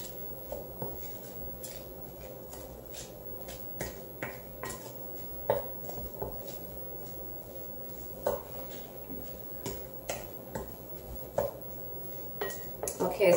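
Panko breadcrumbs being mixed into a dough in a bowl, with repeated clinks and scrapes of a utensil against the dish in an irregular rhythm over a steady low background hum.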